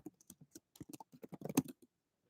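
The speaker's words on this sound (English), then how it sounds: "type in this password" Someone types a password on a computer keyboard: a quick run of crisp, close key clicks with uneven rhythm, ending in a slightly louder burst of strokes.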